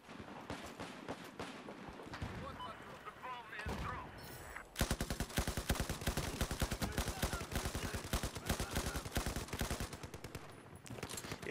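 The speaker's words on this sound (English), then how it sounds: "this gun has some serious recoil, but it's worth it once you know how to control it" Rapid automatic gunfire from the video game Battlefield 4 rattles in dense, sharp bursts, with scattered shots first and then a long sustained stream of fire; no talk is heard over it.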